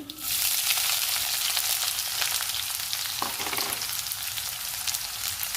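Chopped onions drop into hot tempering oil for a carrot and capsicum curry. A loud, sustained sizzle and crackle fills the whole stretch, with a brief stir partway through.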